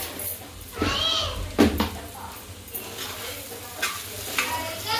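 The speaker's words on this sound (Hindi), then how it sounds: "छान अशी परतून घेऊन थोडी वाफायला ठेवायची।" Sabudana khichadi sautéing in a pan: a soft sizzle with several louder bursts of spoon stirring and scraping, close by, under light talk.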